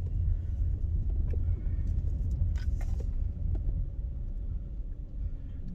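A car drives along a road, its low steady rumble of engine and tyres filling the cabin, with a few faint clicks and rattles and no talk.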